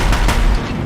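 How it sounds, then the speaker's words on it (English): Deathbringer machines in Horizon Zero Dawn fire sustained heavy gunfire at a bridge, a loud, dense barrage of rapid booming shots with deep rumbling low end, continuous and close throughout with no talking. "If the Deathbringers keep firing, this bridge will go."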